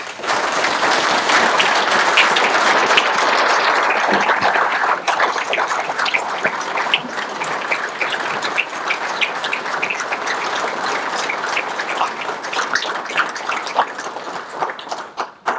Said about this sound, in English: Join me in one more round of applause.